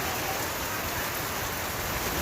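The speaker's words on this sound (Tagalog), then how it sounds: "Ayan na, bumuhos na ang ulan." Heavy rain pours down steadily outside a small roadside store, a dense, unbroken roar of water on surfaces with no pauses and no voices.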